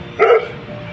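A Labrador dog gives a single sharp bark close by, a short burst standing out from quiet room background.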